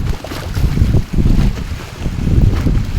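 Strong wind buffets the microphone at a pond shore in cold weather, with waves slapping the bank in a continuous loud, gusty rumble that dips briefly before building again.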